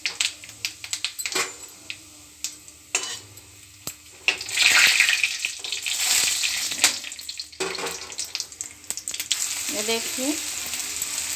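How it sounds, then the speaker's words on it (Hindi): Asafoetida and whole spices hit hot oil in a home Indian kitchen, producing a bright, hissing sizzle that swells and then settles, with utensil clatter and a brief spoken word. "ये देखिए ऑयल गरम हो गया है, हींग ऐड कर देंगे, सारे खड़े मसाले ऐड कर देंगे।"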